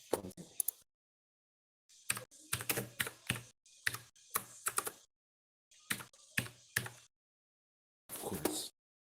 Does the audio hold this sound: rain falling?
no